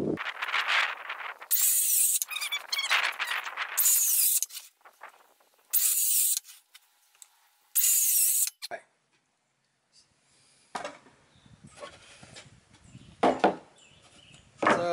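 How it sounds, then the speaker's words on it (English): Circular saw cutting wood for a Warre beehive top box feeder, four short, loud whining bursts in a row, then quieter scraping and handling noises. "the easiest way to do that is to take your circular saw and start it"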